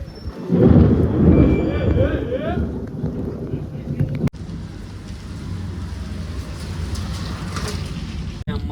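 A heavy, continuous roar of thunderstorm rain and wind, with low thunder rumbling early on and a sharp lightning crack partway through; voices are faintly present.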